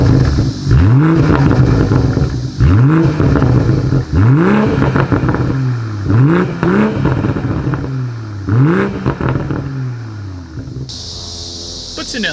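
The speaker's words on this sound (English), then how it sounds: "As always, here is that exhaust clip." A 2020 BMW M340i with a dual exhaust and powder-coated tips revs hard about six times in a row, each blip rising sharply and falling back to idle. It is loud and close, with a steadier tone at the end.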